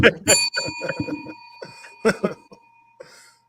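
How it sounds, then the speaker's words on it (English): A bell rings with a steady sustained tone that carries over several voices talking and laughing in a sports podcast setting, fading out after about three seconds. "Let's ring the bell."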